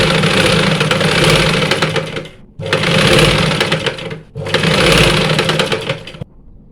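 Sewing machine stitching the lining of an anarkali made from a saree, running in three loud, close, steady whirring runs separated by short pauses.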